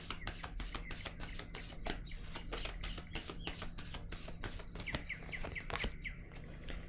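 Tarot cards riffled and handled in a steady run of quick, crisp flicking taps, close and fairly quiet over a constant low hum, with faint bird chirps in the background.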